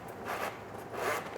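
A small pin being worked out from between the zipper of a silicone conveyor belt strap, giving soft, close scraping and zipper-like rasps in two brief bursts, quiet and without talking.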